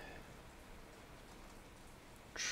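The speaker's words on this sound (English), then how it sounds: "It's raining quite heavily here down in the Cape." Heavy rain falls steadily outside, a dense, even hiss of drops on surfaces that stays constant throughout, with a brief brighter burst near the end.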